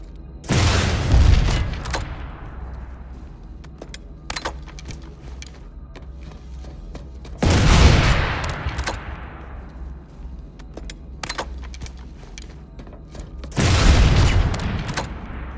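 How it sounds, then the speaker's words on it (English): Three heavy explosions boom out at regular intervals in PlanetSide 2, each decaying slowly, with scattered sharp gunshots and clicks crackling between them. "use it to blow up an enemy vehicle"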